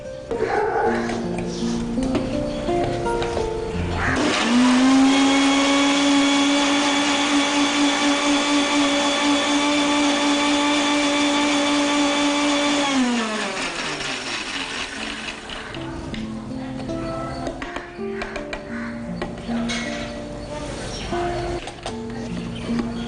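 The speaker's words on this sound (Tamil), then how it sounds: "இப்போ இதை கிரைண்ட் பண்ண போகிறோம்" Beans, spinach, sugar, mint, ginger juice and lemon juice are ground in a mixer jar. The loud motor whine runs for about eight seconds and then winds down, with a dog yipping and whimpering before and after.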